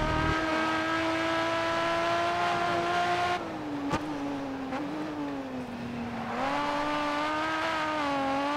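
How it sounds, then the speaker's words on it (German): A race car engine in the GRID Autosport game wails at full throttle, its pitch climbing steadily, dipping through a gear change and rising again, loud and continuous with no talk. "Ich muss jetzt richtig Gas machen hier"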